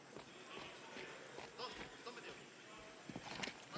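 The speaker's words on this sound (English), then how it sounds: "I think he's going to hear those footsteps." Quick running footsteps in a video game during a LAN finals match, a steady soft patter of steps with a few sharper thumps near the end, under excited esports commentary.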